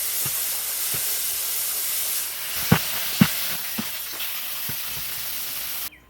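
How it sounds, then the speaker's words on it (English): City tap water mists out of a hose as a steady, close hiss of fine spray, with a few soft knocks and thumps over it, before it cuts off near the end. "City water is chlorinated. I try not to use it, so when I do, I let it mist like that."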